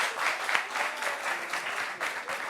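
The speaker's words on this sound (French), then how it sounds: "Applaudissements pour vous" An audience applauds guests at a meeting-style show, a short, steady burst of many hands clapping close and loud with no break across the whole stretch.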